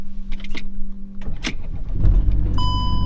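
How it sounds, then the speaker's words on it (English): A VW Touareg, one with a steering angle sensor fault, is started up close by, with a clicking and whirring crank followed by the engine catching and settling into a steady low rumble, alongside a soft chime tone near the end. "So now I'm going to start up the car."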